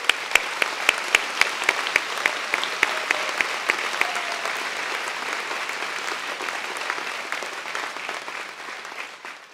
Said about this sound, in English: can I have a round of applause for your parents and everybody here that made it all happen?